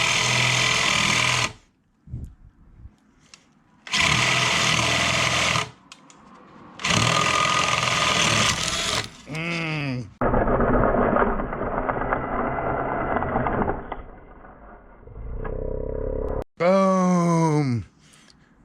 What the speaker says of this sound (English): That's what happens when you blow through.